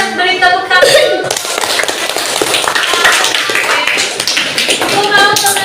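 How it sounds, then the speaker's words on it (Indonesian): A classroom group claps together in a fairly loud, close burst of hand claps, with a voice talking over it. "Oke, kita beri tepuk tangan."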